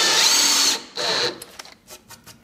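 Power drill driving screws into wall plugs for a homemade sun lounger, two loud whirring bursts followed by quieter clicks and handling knocks.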